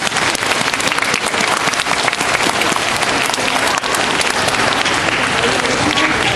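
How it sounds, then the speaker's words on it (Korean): Steady, loud applause from a retirement ceremony audience fills the hall, dense clapping holding at an even level throughout with a faint voice beneath. "힘찬 박수 한번 주시기 바랍니다."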